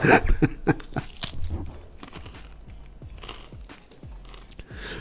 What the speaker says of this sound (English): You're supposed to chew away from the mic like I've been doing.